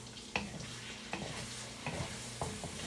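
Fried rice stir-fries in a pan cooked without oil, a soft continuous sizzle punctuated by four distinct scraping spatula strokes at an unhurried rhythm, close by and without speech.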